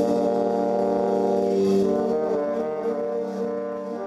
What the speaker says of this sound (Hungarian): Hallgassátok csak meg a kürtöt, a harsonát és a tubát.